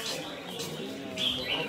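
A flock of birds chirping at a bird singing competition, with short bright calls and tweets rising over a low, steady background murmur.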